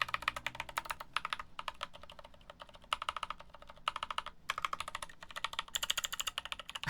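Clicky mechanical keyboard switches being typed on in steady bursts of sharp, close clicks, with brief pauses between runs; some keys sound quieter than others.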